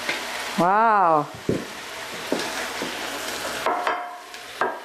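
A tofu mixture added to a hot fry pan for a tofu kale stir fry sizzles steadily up close, with scattered utensil clicks and scrapes, while a voice briefly exclaims near the start.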